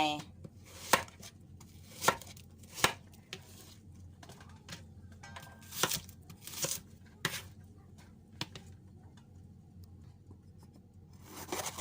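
A knife chopping onion on a board, sharp irregular taps spaced a second or so apart, close and fairly quiet, with soft kitchen background noise.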